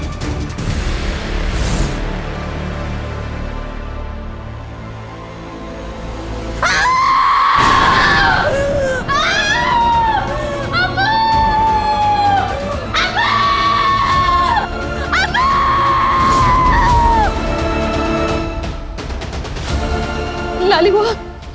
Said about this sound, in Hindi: हम उसकी चीखें नहीं सुन सकते।